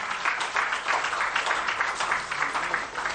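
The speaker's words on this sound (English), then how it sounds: "Please, let's give him another round of applause." An audience claps at a public forum on the 2022 Awudie budget, giving a steady, fairly loud round of applause that carries through the whole moment with no voices over it.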